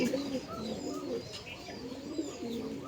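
Racing pigeons in a loft coo softly and repeatedly, with low rolling calls layered over each other close by and a few faint chirps in the background.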